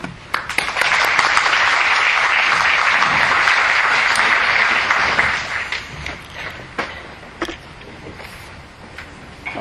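Conference audience applauding to welcome presenter Mark James at SSLW 2009, a full burst of clapping that holds steady for several seconds, then thins out into a few scattered claps and room noise.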